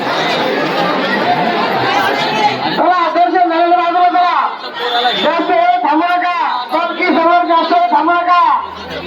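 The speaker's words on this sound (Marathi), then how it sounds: "महिलांची गर्दी पाहू शकता तुम्ही" A dense crowd of women devotees at a village temple fair for a goddess's palanquin procession in Maharashtra, loud close chatter and babble of many voices throughout, with a few voices singing or chanting over the hubbub in the latter part.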